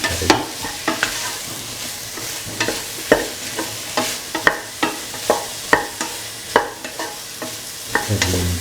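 Salted cauliflower rice for lemon cauliflower rice is sautéed in a pan over a steady sizzle. A utensil stirs it in regular scraping strokes, roughly one every half second, each one crisp and close.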